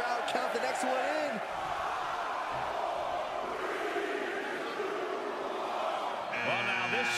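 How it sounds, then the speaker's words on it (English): Arena crowd in a WWE 2K23 wrestling video game, a broad roar of many voices rising and swelling in unison, with game effects and music stabs at the start and end. "Listen to this crowd count the next one in."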